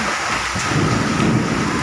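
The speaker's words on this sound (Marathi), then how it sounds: "गारावणी पाऊस आणि वारा, वीज पण चमकते" Heavy rain with wind roars steadily during an evening thunderstorm with hail and lightning, with a deep rumble of thunder underneath; loud, continuous and close.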